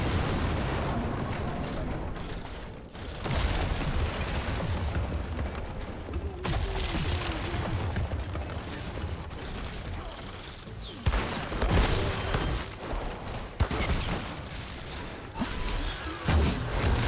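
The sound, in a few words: loot explosion in the video game Outriders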